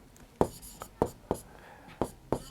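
Chalk or marker taps and strokes on a board while writing a math equation, six distinct sharp knocks spaced irregularly, close and moderately loud over a quiet background.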